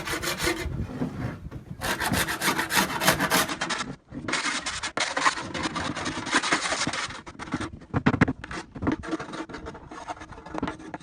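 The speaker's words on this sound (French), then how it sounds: "tu vas devoir le nettoyer, donc grattage et passage à la flamme." A wooden beehive feeder being scraped clean at the start of the beekeeping season, close rasping strokes repeating in an uneven rhythm with brief pauses between passes.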